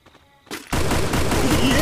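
Gunfire in the mobile shooter Free Fire: a short faint burst, then a loud continuous volley of shots that fills the rest of the moment, close and harsh.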